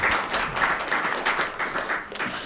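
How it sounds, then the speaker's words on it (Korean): Brisk applause from a church congregation at a Sunday service, a dense, steady crowd of clapping at moderate loudness filling the room. "큰 박수 부탁드립니다"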